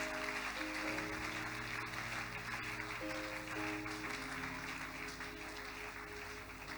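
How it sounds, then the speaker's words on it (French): Church congregation clapping along during a service, steady broadband applause held throughout while sustained musical tones from instruments or singing run underneath. "Give the Lord a big clap."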